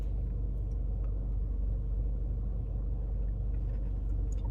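A car engine idles steadily nearby, a continuous low rumble with no revving, no other sounds and nobody talking.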